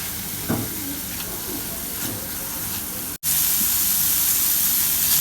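Minced chicken with spices fries and gets stirred in a pan, making a steady sizzling hiss with soft scraping strokes early on, then a brief dropout followed by louder, brighter frying.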